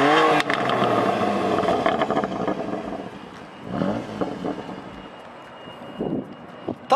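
A 2019 BMW M2 Competition fitted with an M4 engine revs hard at first, then settles into a lower, fading growl with wind buffeting the microphone and a few light clatters.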